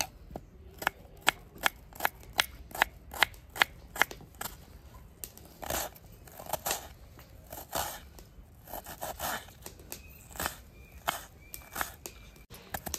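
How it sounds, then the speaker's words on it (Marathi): A knife chops onions finely for a palak batata bhaji, giving a string of sharp, close taps on a board, irregular at first and then quicker, quiet overall with soft rustles between the cuts. "तोपर्यंत आपण कांदे कापून घेऊ"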